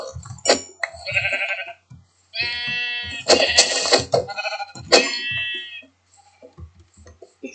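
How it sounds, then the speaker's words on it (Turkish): Several loud, wavering sheep bleats from Minecraft come in bursts as the sheep are slaughtered, some overlapping, with brief quiet gaps and faint thuds between them. "Evet kurbanlık koyun kesiyoruz şu anda."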